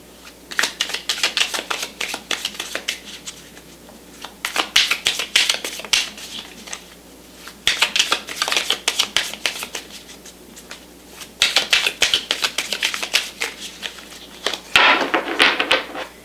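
Mini tarot cards are shuffled close by in several bursts of rapid riffling and flicking, with short pauses between rounds.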